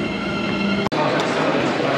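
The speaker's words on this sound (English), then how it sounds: "we're going on the train to Shinosaka" A steady rumble rides under the inside of a passenger train travelling through Japan toward Shin-Osaka, broken by one sharp click and a brief dropout partway through.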